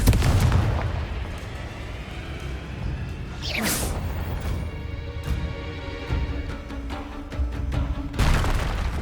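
Incendio and Confringo spell blasts in Hogwarts Legacy, booming explosions and crackling fire over a steady roar of game ambience, with a sharp rising whoosh midway and another burst near the end.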